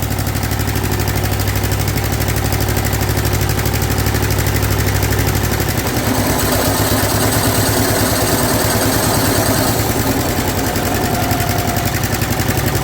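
A Snapper rear engine riding mower runs with a muffler fitted, its small engine idling with a steady, close, pulsing putter that shifts to a slightly rougher rhythm partway through, with no talking.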